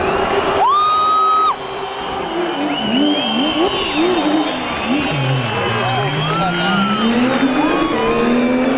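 Rally car at the 2011 Sical rally racing past very fast while sliding sideways, its engine note swooping loudly up and down over a cheering, whooping crowd of spectators.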